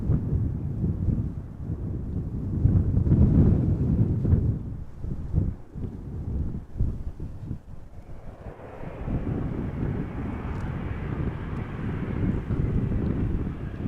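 A Saudia Boeing 787-10 Dreamliner arrives at Amsterdam Schiphol on a crosswindy day, a distant low jet rumble that swells and then gives way to a broader airy roar, mixed with wind buffeting the microphone.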